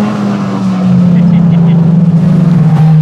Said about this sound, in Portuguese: esse Peugeotzinho do Bruno aqui atrás, vem que vem forte